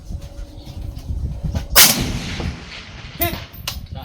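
Rifle shots from long-range shooting at a range, with a loud sharp report near the two-second mark and another about a second and a half later, plus fainter cracks between them, all outdoors over steady wind noise.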